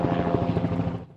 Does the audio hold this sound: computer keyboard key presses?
no